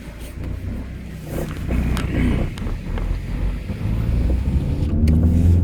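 A car pulls away and drives off. The engine rumble builds and holds steady with some wind noise, close and fairly loud.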